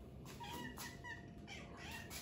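A pregnant cat meows softly in a quiet room, a few faint, drawn-out mews spread across the moment over low background hiss.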